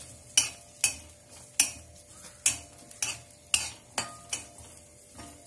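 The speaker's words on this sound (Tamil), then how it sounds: "இந்த வெங்காயம் பூண்டு சேர்த்து வதக்கணும்" Onion and garlic sauté in a pan for a Tamil methi leaves thokku while a utensil scrapes and stirs in a regular rhythm, about a dozen sharp strokes over a faint sizzle, close and with no voices.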